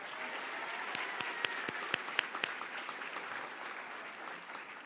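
Audience at a dual enrollment recognition ceremony applauding, a dense, even wash of clapping with several crisp close claps standing out in the first half before tapering slightly.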